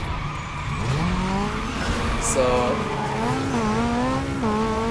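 A powerful car in the Need for Speed Carbon racing game, with its engine revving and shifting in rising and falling tones, a tire squeal, and a steady roar under a brief spoken word.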